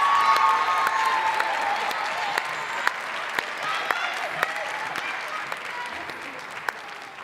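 Steady, dense applause from an audience at a nurse pinning ceremony congratulating nursing award recipients, sustained throughout with a few sharper individual claps standing out near the end.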